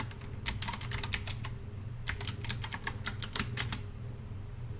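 Fingers typing on a computer keyboard in two quick bursts of close, crisp key clicks separated by a short pause, over a low steady background hum.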